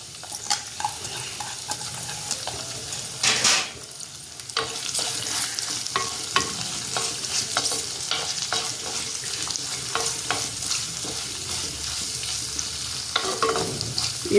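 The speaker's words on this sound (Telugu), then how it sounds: "ఇక నేను ఆనియన్స్ వేస్తానండి." Onions sizzle steadily in a clay pot while a utensil stirs them in scraping strokes at an uneven rhythm, close and moderately loud, with a brief clatter near the start and no talking.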